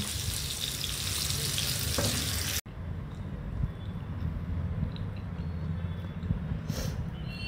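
Curry leaves and garlic sizzle in hot oil for a fish dish, a steady dense frying hiss that runs loud throughout, briefly cut off partway and then resuming slightly softer with occasional stirring clinks.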